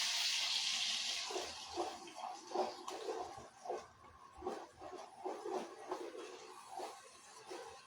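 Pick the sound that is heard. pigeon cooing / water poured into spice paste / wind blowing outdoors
water poured into spice paste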